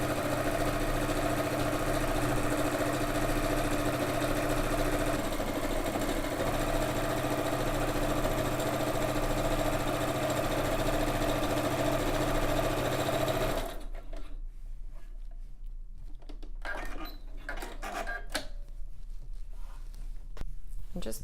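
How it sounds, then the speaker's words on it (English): A sewing machine runs continuously, loud and close, while back stitching fabric for a grow bag, then stops abruptly, leaving quieter handling clatter and small clicks. "I'm going to give it a little back stitch."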